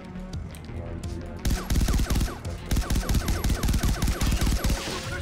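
Rapid pistol gunfire from the video game Far Cry 3 Blood Dragon crackles in close, loud volleys of repeated shots, with a brief pause before the firing resumes with greater density.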